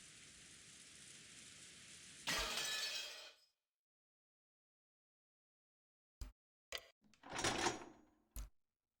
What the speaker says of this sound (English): sound of glass smashing is my signal to call it a day